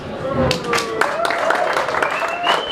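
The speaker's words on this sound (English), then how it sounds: "So really big round of applause. Thanks to our sponsors." Scattered clapping from the crowd at a Mobile Monday event in Cape Town thanks the sponsors, with individual claps audible and a tonal whistle-like sound rising over them.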